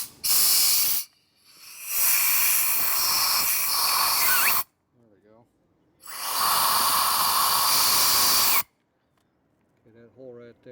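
Compressed air blasts through the idle circuit of a carburetor from a 2001 Gilroy Indian motorcycle, loud steady hissing in two long bursts, with brief quiet voices in the gaps between them.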